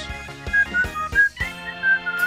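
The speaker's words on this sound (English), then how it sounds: "why are you whistling?" Someone whistles a tune in a series of clear, shrill notes with short gaps, close by and fairly loud, over background game music and thumps during online Mario Kart 8 play.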